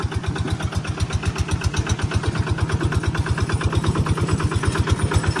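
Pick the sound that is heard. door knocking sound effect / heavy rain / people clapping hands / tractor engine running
tractor engine running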